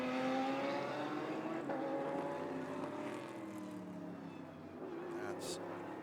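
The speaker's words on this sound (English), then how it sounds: "That's the leading GT Cup Porsche." A GT Cup Porsche race car sweeps past on track during an Asia Le Mans Sprint Cup race, its engine note sliding downward as it goes by, steady and fairly loud beneath continuous commentary.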